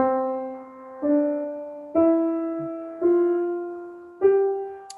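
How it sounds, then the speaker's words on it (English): Five sustained piano notes played one after another, each flowing smoothly into the next with a slight overlap, clear and close with no voices. "if I roll one finger over to another and have a little overlap"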